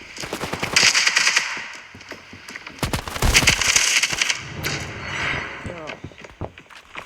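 Rapid automatic gunfire bursts and single shots from the mobile shooter game Standoff 2, loud and close, with thumping footsteps and game effects, interleaved with a player talking excitedly over the action.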